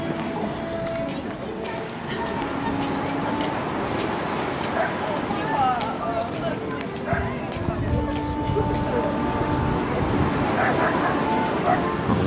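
A dog barks and whimpers now and then amid background noise and shuffling, with people talking nearby on the Yalta embankment.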